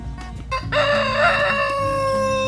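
A dominant rooster on a poultry farm crows once, loud and close, in a long drawn-out call inside the chicken coop, preceded by a few low clucks and soft shuffling.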